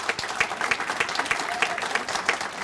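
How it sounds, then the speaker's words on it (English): An audience at a chamber of commerce legislative forum breaks into steady applause, with many hands clapping evenly throughout and no voices standing out. "Let's give her a round of applause."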